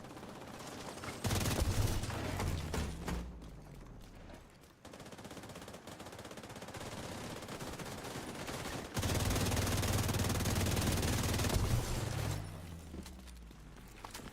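Rapid assault rifle fire in The Division 2, dense bursts of shots in two long volleys separated by a short lull, loud and close with some mechanical clatter.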